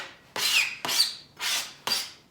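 Fresh ginger grated on the fine mesh side of a grater: four close, rasping scrapes in an even back-and-forth rhythm, each a short burst with brief gaps between.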